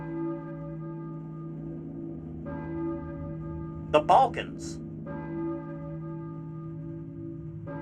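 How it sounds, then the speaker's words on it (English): Church bells ring in the video game Silent Hill, a sustained resonant bell tone pulsing in long swells against steady ambient drone, with a brief spoken phrase in the middle. "I hear a church bell, maybe? Who's ringing the bell?"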